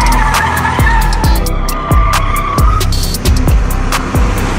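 BMW 2 Series Gran Coupe driven in sport mode on winding hill roads, loud repeated tyre squeals and skidding screeches over a steady engine drone, each squeal sweeping down in pitch.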